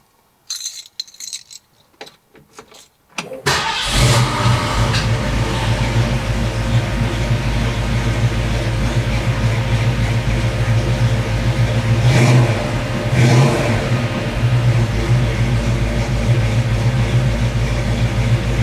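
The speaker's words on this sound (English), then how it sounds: "So let's go ahead and get the car started and see what we get." A 1966 Ford Mustang with a freshly rebuilt automatic gear shifter cranks briefly, then catches and settles into a loud, steady idle that runs on close by, with slight swells in engine noise.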